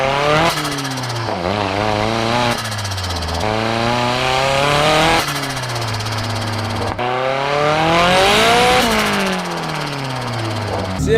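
A Toyota AE86 fitted with a turbocharged SR20 engine revs hard while driving, loud and close from inside the car, its engine note rising and dropping through repeated gear changes over about eleven seconds with no talking.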